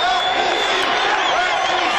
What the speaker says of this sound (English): You can hear the fans right there cheering.